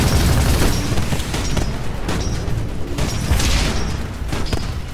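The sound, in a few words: nuclear explosion of atomic titans in Titanfall video game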